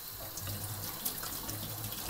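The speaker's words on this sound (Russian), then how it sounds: "И просто промываем проточной водой." Funchoza glass noodles being rinsed under a running kitchen tap, a steady close hiss of flowing water with soft splashing into the sink throughout, no voices.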